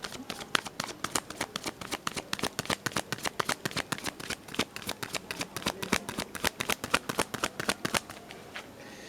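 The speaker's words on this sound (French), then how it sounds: "Je vais mélanger." Tarot deck being shuffled: a long run of rapid, evenly spaced card riffles and slaps, close and crisp, continuing steadily with no talking.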